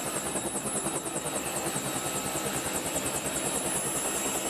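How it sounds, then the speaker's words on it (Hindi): A helicopter's rotor beats in a steady rapid thump with a whining high engine tone, fairly loud and constant as it passes overhead, with no talking. "दादा हेलीकॉप्टर तो चला गया"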